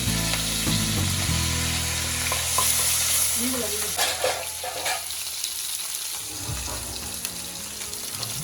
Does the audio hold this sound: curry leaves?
yes